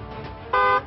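A single steady vehicle horn blast, loud and close, sounding for about a quarter second with strong tonal bands, set against low background hum.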